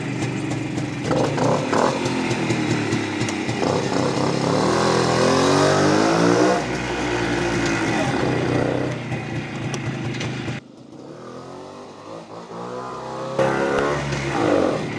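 A vintage Polish motorcycle engine runs near the listener indoors, revving up and down in repeated surges with a clear rising whine, then dropping briefly to a lower idle before picking up again.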